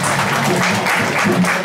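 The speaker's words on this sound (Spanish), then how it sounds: "un fuerte aplauso" Crowd applause for a guitarist at an acoustic band show, a steady wash of clapping at moderate level with a faint voice underneath.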